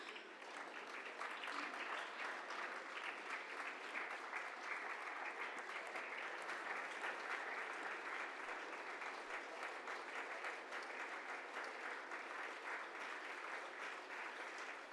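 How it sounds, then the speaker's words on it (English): Crowd at a formal function applauds arriving dignitaries, a long, even, moderately distant roll of clapping that holds steady throughout without talk. "give a big round of applause to our esteemed dignitaries"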